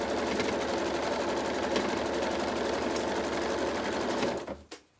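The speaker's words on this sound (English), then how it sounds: "we're just going to stitch down the side of here and see how fast we go" A sewing machine stitches down the side of a quilt, a loud, fast, continuous mechanical whir that winds down and stops near the end.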